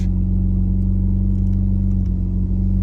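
The engine of a manual stick-shift car settles into a steady low idle right after starting, an even, close rumble with a constant hum and no voices.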